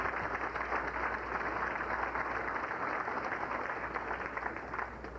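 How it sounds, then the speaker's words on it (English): Steady, dense applause from a crowd at a speedway banquet, a continuous crackle of many hands clapping at an even level throughout. "Give a round of applause for our tow truck operators."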